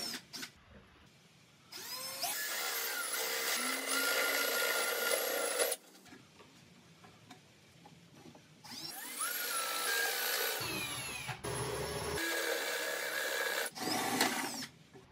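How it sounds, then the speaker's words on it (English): Power drill boring holes through two wooden top panels of a flip top bench cart to pass a 3/4 inch pipe, in several loud sustained bursts of whining, grinding cutting separated by brief quieter pauses, with no talking. "Ready now to bore a hole on both top panels to allow for the 3/4 inch pipe to pass"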